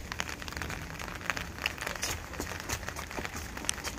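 Light rain falling outside, a faint, steady patter of scattered drops tapping on surfaces and an umbrella, with brief crisp ticks throughout and no voices.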